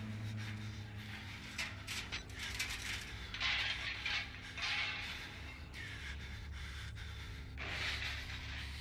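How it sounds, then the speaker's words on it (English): The player character breathes heavily in the horror game Outlast, with repeated raspy, panting breaths rising and falling over a quiet, humming background. "he has to stop breathing so heavily"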